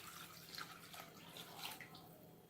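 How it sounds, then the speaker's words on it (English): Water pours steadily into a cooking pot over chicken pieces coated in sauce for Dindigul chicken biryani, a soft continuous splashing with a few brighter trickles and drips, fairly quiet and alone. "I'm pouring in the water"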